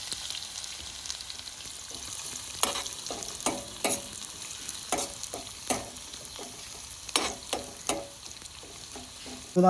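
Small shallots and fenugreek seeds frying in hot oil for a bitter gourd mango curry, a continuous crackling sizzle with repeated spatula scrapes and stirs at irregular intervals, close up and without speech.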